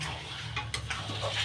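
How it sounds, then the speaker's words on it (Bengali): A utensil stirs sugar into a bottle gourd and prawn curry in a pan, making soft, close scraping and a few light clinks over a quiet low background hum. "এবার এই চিনিটা দিয়ে খুব ভালোভাবে লাউয়ের সাথে মিশিয়ে দেবো।"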